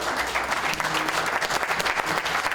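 Mourners at a motorcycle club member's memorial, a celebration of life, break into full, dense applause that stays steady and loud throughout, with a faint low hum beneath the clapping.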